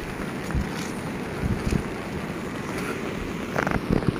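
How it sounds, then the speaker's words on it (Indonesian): Sea waves breaking against rocks on a rocky beach at Wediombo, a continuous rushing wash with bursts of surf at moderate distance, mixed with wind buffeting the microphone. "Ada ombaknya yang terpecah ya,"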